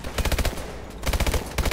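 Bursts of MR-9 gunfire in the first-person shooter Call of Duty: Advanced Warfare, a loud, rapid run of shots that pauses briefly near the middle and then resumes.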